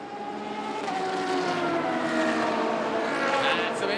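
Ferrari race car overtaking on the Sepang circuit during a TCR touring car race, a loud sustained engine whine rising in pitch as it passes, with excited commentary over the engine.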